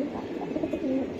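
Racing pigeons, a paired male and female of the highflier type, cooing softly in a loft, a low murmuring coo that repeats steadily through the moment with no talking.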